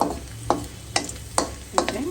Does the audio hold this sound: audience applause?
no